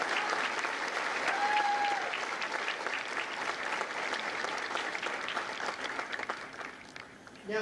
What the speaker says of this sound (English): join me in a round of applause for the officers, the drill instructors, and the families of Company I.